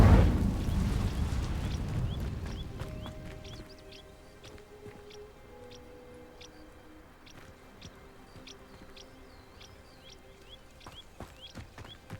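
A fire spell ignites dry vines in Hogwarts Legacy: a loud, deep whooshing burst that rumbles and fades over a few seconds, followed by quiet ambience with scattered chirping birds and faint clicks.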